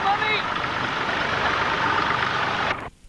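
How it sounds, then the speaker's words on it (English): A David Brown tractor engine runs steadily at a ploughing championship in Cowbridge, Wales, giving a continuous broadband rumble for nearly three seconds before cutting off abruptly, with faint background voices early on. "On the David Brown tractor over there"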